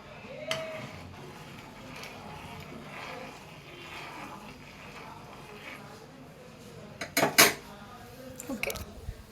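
Yippee instant noodles with masala being stirred in a pan over a medium flame, with soft scraping and a few sharp metallic clinks of utensil on pan near the end, close and fairly quiet.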